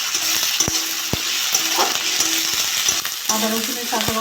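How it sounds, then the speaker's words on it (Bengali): Ginger garlic paste fries loudly in a pan after onions, giving a thick, constant sizzle. Sharp metallic taps and clinks from the spatula hitting the pan are scattered over it. "আদা রসুন বাটা 1 চামচ দিয়ে দেবো। এটা ভেজে নেবো"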